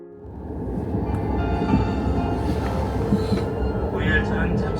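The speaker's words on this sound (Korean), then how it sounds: "열차는 전라선과 장항선이 만나는 익산역에 정차합니다." A KTX/SRT test-run train rolls into Iksan station with a steady low rumble and rail noise from inside the carriage, while an onboard announcement plays over it.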